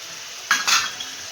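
Chopped chillies and tomatoes are stirred and mixed in a pan while making Maggi noodles, giving two short, close scraping and swishing bursts over a faint sizzle.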